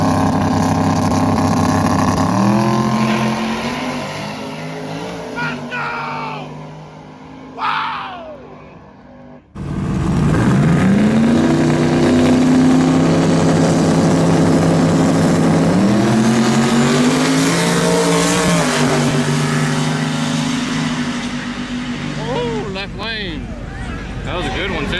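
An 86 GT car at a drag strip launches and accelerates hard down the lanes, its engine loud and rising through the gears for most of the run, with people talking around it.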